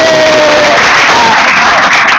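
Students at a junior high school clap together in a classroom, giving a loud, dense, continuous round of applause that fills the whole moment.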